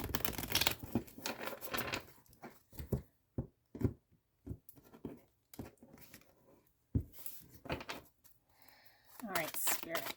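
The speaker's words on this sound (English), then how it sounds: "I'm just going to shuffle until I feel this is about ready." A tarot deck is shuffled in bursts of quick papery riffles and soft taps, close by, with pauses between handfuls and a voice speaking at the start and end.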